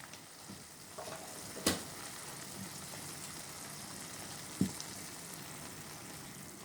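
Spices hiss and sizzle in hot oil in a wok, a steady frying texture broken by two sharp clinks of a utensil against the pan while the mixture is stirred.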